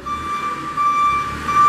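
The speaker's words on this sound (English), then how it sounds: "Backup alarm's working." Backup alarm on a 2017 Moffett M8 55.3 truck-mounted piggyback forklift, a steady repeating electronic beep heard at moderate distance over a low engine rumble.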